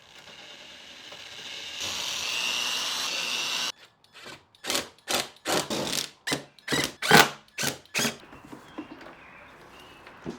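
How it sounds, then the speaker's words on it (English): Screwdriver scraping and twisting at holes in the plastic door card of a BMW 3 Series, a steady rasping stretch followed by a run of sharp, rhythmic ratcheting bursts, close and fairly loud. "we might have to just widen these holes with like a screwdriver or something"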